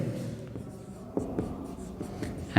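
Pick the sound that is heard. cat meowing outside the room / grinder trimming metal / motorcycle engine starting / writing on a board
writing on a board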